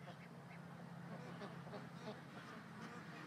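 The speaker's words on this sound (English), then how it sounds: "I hear a whole bunch of ducks moving." A flock of ducks quacking and calling over steady outdoor ambience, the calls scattered and moderately close, with occasional goose-like honks mixed in.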